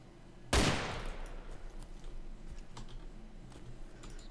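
A single sharp gunshot in the video game Arma 2 DayZ cracks out loudly, then its long echo decays into a faint tail, with light keyboard clicks ticking in the background.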